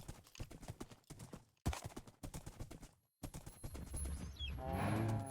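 Horse hooves clip-clop in rapid rhythmic bursts in the Minecraft modpack Sevtech Ages, broken by brief pauses, then settle under a louder ambient game wash near the end.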